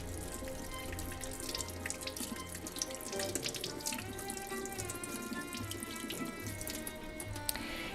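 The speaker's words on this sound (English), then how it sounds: "I'm washing these apples in cold water with a blue scrubby and soap." Apples being washed under a cold running tap with a blue scrubby and soap, water streaming steadily into a sink with scrubbing and splashing throughout, fairly close and without talk.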